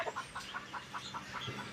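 Chickens clucking on a farm, a steady series of short, soft clucks repeating at an even pace close by, with light pecking and faint background noise.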